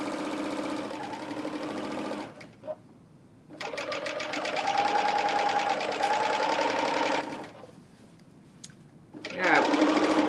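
A serger sewing machine runs close in long bursts of rapid, even mechanical chatter that stop and restart, with a person talking over it while sewing a garment.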